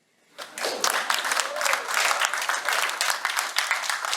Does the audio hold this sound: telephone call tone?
no